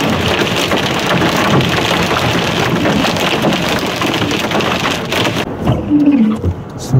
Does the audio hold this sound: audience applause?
no